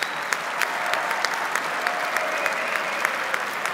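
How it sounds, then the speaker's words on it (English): A large audience at a corporate awards ceremony gives sustained applause, a dense, even wash of many hands clapping with a few sharper individual claps standing out, steady throughout with no talk. "So, a round of applause for them."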